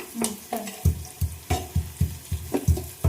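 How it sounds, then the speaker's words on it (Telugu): Onions and potatoes fry in a pan, a soft sizzle broken by a steady run of rhythmic stirring scrapes, about three per second, close and fairly quiet. "ఆనియన్ కూడా కొంచెం కలర్ చేంజ్ అయిపోయాయి ఇప్పుడైతే ఆలుగడ్డలు వేసుకున్నా"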